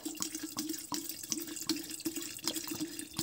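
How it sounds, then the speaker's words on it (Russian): Homemade blueberry liqueur poured into a bottle, a quiet trickling, gurgling liquid stream with small irregular splashes and drips, close and soft, no talking. "открываем бутылочку и заливаем"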